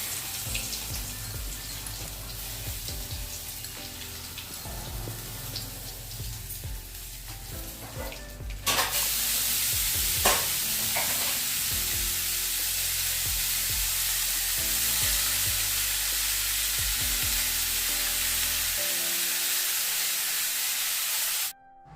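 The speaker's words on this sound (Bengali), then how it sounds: "আর এখানে এখন বসিয়ে দিলাম সর্ষে শাক একটু রসুন ফোড়নে দিয়েছি তারপর কাঁচা লঙ্কা দিয়ে সর্ষে শাকটাও বসিয়ে দিলাম" Mustard greens fry in a pan with garlic and green chillies. Low clatter and kitchen noise come first, then a loud, even sizzling hiss starts abruptly and holds steady until it cuts off near the end, close by and without speech.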